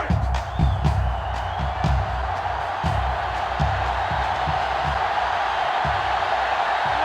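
Stadium crowd noise in the college football video game NCAA Football 05, Alabama against Tennessee: a steady roar from a large crowd with a few louder thumps and swells, continuing at an even level.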